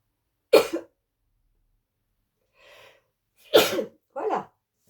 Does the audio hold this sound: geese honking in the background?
no